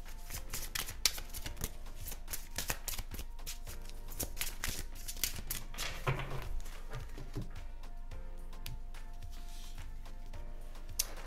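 Tarot cards being shuffled and drawn, a long run of dense, crisp riffling and slapping of card stock, close and fairly quiet, continuing without pause and with no speech.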